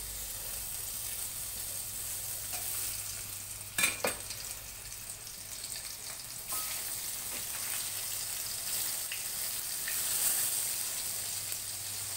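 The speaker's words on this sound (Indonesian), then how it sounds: "Oke, saatnya kita ke penggorengan." Tempe-filled ketupat sizzles in a frying pan, a steady soft crackle that runs throughout, broken by a short utensil clatter near the middle.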